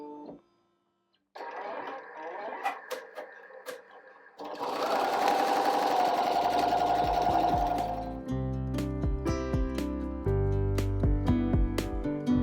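A Smartstitch S-1201 embroidery machine starts up after a few clicks, then runs with a loud rapid mechanical stitching rhythm and whirring motor tones close by.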